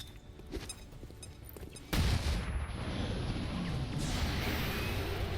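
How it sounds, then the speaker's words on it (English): A flashbang grenade thrown in the XCOM 2 video game goes off as a sudden loud, sharp blast after quieter game ambience, followed by a sustained, roaring noisy aftermath. "Let's throw our flashbang over here to try and make it easier."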